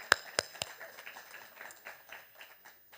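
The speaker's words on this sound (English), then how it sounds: "Another round of applause for Banshi." Audience applause at a reproductive justice litigation gathering: a few sharp claps at the start, then a thinner, scattered patter of clapping from the crowd, moderately distant and fading.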